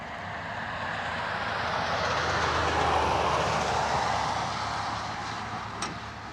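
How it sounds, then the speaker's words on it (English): A train rolls past nearby in Anchorage, a steady broad rumble that swells toward the middle and fades slightly at the end, with no talk over it. "listen to the train"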